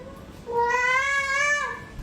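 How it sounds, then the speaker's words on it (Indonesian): A cat gives a single drawn-out, tonal meow, close and clear, rising then holding before fading, with faint background noise. "Atau ada kucing lain gak sih?"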